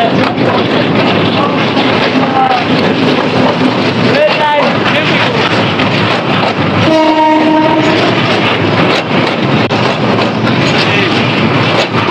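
A train crossing a long steel arch bridge in Mymensingh, Bangladesh: a loud, continuous roar and rattle with wind buffeting the microphone, and horn blasts sounding around the middle.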